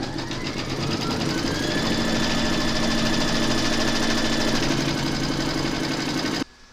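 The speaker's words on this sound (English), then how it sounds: "Pop your hoop into your machine, and then you're going to stitch round number 2 to secure them." An embroidery machine stitches batting held in the hoop, a loud, steady mechanical whir with a fast regular pulse running without pause for about six seconds before stopping abruptly.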